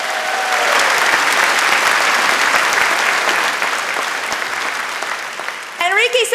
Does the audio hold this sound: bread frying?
no